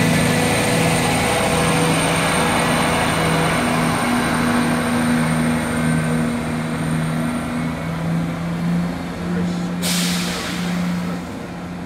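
A Class 168 diesel multiple unit, number 168107, pulls out of Warwick station bound for Birmingham Snow Hill, giving a steady low engine drone with a tonal hum throughout and a brief hiss near the end.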